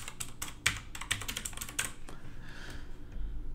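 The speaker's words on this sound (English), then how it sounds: "you just want to hear my mechanical keyboard for a bit" A mechanical keyboard clacks in quick bursts of crisp, close keystrokes, loud and uneven in rhythm, with no voices over it.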